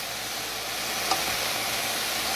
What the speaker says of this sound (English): I'm going to let this last bit finish frying up with the rest